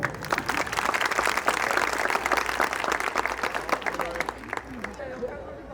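Audience applause for a boy's song at a Vishwakarma Jayanti celebration: dense, sustained clapping from a crowd that holds steady, then thins and fades toward the end.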